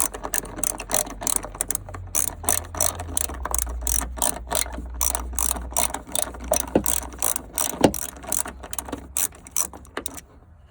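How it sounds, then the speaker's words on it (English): A hand ratchet clicks in quick, repeated bursts while loosening the bolts on a car trunk lift support, close and fairly quiet, with a low mechanical hum beneath and a couple of sharper knocks. "you have to open these two screws, two bolts."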